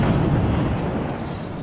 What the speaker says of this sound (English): It could be a frosty dragon